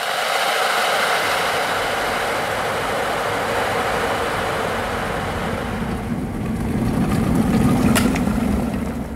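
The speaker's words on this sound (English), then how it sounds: "There's glory in a kettle boiling." A kettle boiling at home, a steady dense rushing hiss that holds for several seconds, then a deeper rumbling bubble swells up near the end with a faint click.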